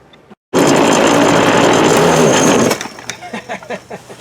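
A Poulan Pro 42cc PP4218A chainsaw roars loud and close for about two seconds at steady high revs, then drops to a rougher, sputtering idle with uneven pulses.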